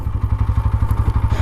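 A Pulsar N125 motorcycle idling close by, its underbelly exhaust giving a steady, rapid low thumping pulse with a faint rattle on top.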